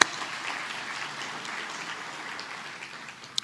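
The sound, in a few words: audience applause for event sponsors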